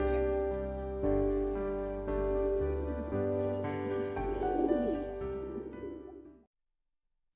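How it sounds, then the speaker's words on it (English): Stencil Lahore pigeons coo softly in resting cages, low repeated calls mixed with faint chirps and a steady background hum, fading out near the end. "Here are 4 adult Stencil Lahore pigeons, proud, mature and ready to impress."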